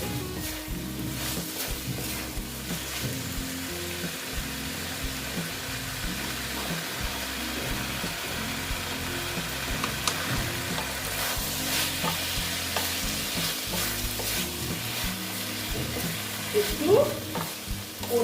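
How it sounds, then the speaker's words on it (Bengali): Pointed gourd (potol) stir-fried in a pan for a moong dal kalia: a loud, unbroken sizzle with constant stirring over a steady low droning hum, ending with a couple of sharper clatters. "পটল গুলো দিয়ে দেবো দিয়ে আবার আমি একটু কষিয়ে নেবো"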